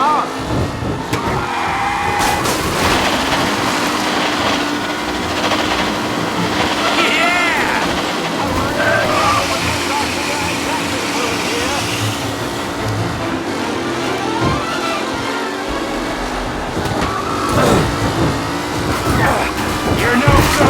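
Vintage race cars roar through an old-school race in Mafia Definitive Edition, a continuous dense engine drone with revving and tire noise, while voices talk over the action throughout.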